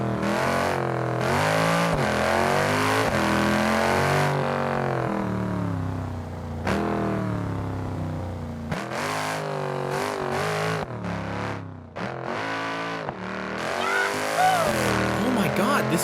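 A fast car in the video game BeamNG.drive revs hard, its engine pitch climbing repeatedly through gear changes at close, loud level, with tire squeal at moments and a voice talking over it.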